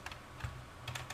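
Steady typing on a computer keyboard as text is entered into a product-label template, a run of soft, quick key clicks at low level with no talking.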